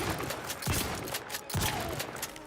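Shotguns fire in a space video game, several sharp blasts and rattling bursts in quick succession, close and fairly loud over a dense mechanical background.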